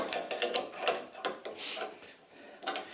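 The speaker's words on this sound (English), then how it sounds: "if I can get this wrench on it" A wrench ratchets on an air suspension fitting of a 1976 Mazda RX-5 Cosmo, a few quick close clicks and metallic turns, fairly quiet, with no talking.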